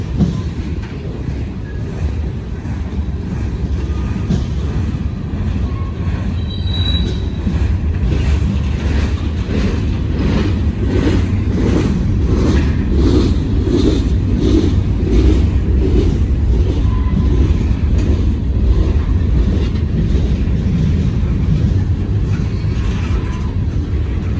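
A long freight train rumbles past close by, a loud, sustained roar of wheels and cars with a faint rhythmic clatter swelling mid-pass and easing slightly toward the end.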